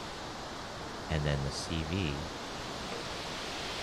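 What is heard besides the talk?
synthesized ocean surf noise made in VCV Rack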